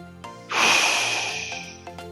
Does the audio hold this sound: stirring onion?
no